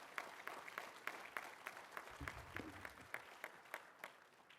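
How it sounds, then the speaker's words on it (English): A small audience applauds at a talk on the criminal justice system's impact on fathers, men and boys, with a few distinct claps standing out over a soft, scattered patter that stays quiet and fairly distant. "we should applaud him for being there"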